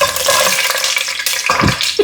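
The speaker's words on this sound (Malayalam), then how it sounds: "അതിലേക്ക് 2-3 വറ്റൽമുളക് പൊട്ടിച്ചങ്ങോട്ട് ഇടണം." Two or three broken dried red chillies fry in hot coconut oil in a pan, giving an uneven crackling sizzle with a few louder bursts near the end.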